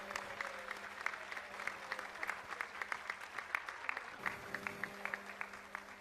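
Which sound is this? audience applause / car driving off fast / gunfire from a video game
audience applause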